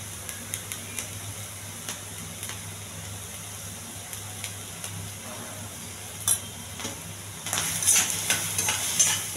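Chickpeas with chili powder and salt are stirred in a pan, producing a soft scraping and light sizzling with scattered clinks that grow busier and louder toward the end.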